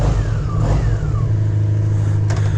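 A 1987 Honda Super Magna VF700 motorcycle runs with a loud, steady low engine rumble up close, holding the same even note throughout with no clear rise in revs.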